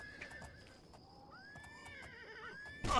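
A horse in the video game Elder Scrolls IV: Oblivion whinnies with a rising, wavering cry, followed by a sudden loud burst at the end, over faint background noise.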